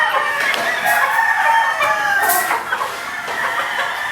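A Sunday Hatch gamefowl rooster crows loudly and close, mixed with clucking from other chickens nearby.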